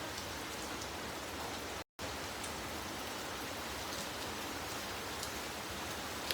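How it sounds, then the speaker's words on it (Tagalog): Heavy typhoon rain pours down in Japan as a dense, steady hiss of drops hitting surfaces, continuous and loud throughout apart from a momentary cut, with no voices. "Ang lakas ng ulan, guys."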